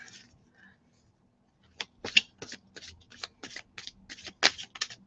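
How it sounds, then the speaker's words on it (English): A tarot card deck being shuffled by hand: a quick run of crisp, papery riffles and flicks after a brief quiet pause, close and moderately soft, with no one speaking during the shuffle. "So I'm going to give this a good shuffle."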